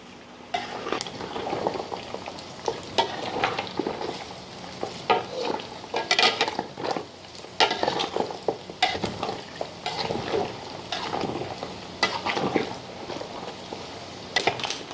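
Pork pieces for chicharon sizzle and crackle in pure pork lard while a utensil stirs them, with repeated scraping strokes against the pan and steady frying hiss throughout, close and fairly loud.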